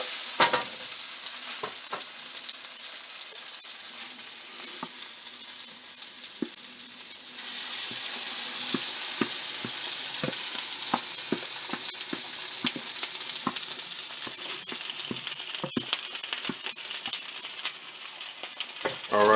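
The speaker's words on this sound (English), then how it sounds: "change the heat to high heat. And we're going to add the rice." Rice stir-fried with green onions in a pan on high heat, a loud continuous sizzle with frequent scraping and clacking strokes from a utensil, growing busier partway through.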